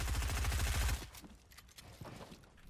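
Rapid SMG fire from a Fortnite solo cash cup match, a fast close burst for about a second that cuts off into quieter game noise and scattered faint shots.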